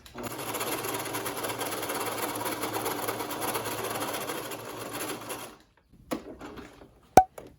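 A sewing machine stitching fabric for a children's face mask runs in a steady, fast whirring rhythm for about five seconds, then stops, followed by a few soft clicks and a sharp tap.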